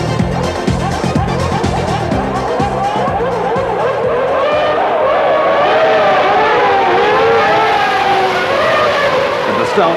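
Formula 1 cars at the 1994 race start, engines screaming loud and continuous as the field accelerates, with several high wailing engine notes rising and overlapping throughout, under a commentator's voice.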